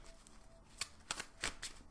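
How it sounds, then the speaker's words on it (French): Oracle cards being shuffled close up, giving several quick, soft riffling and flicking bursts with no talking. "Et donc, on va tirer une petite carte."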